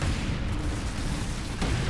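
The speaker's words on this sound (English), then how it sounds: "lots of explosions." Grenade explosions in a video game rumble as a continuous low, heavy boom for about two seconds, with a sharper burst near the end and no voices.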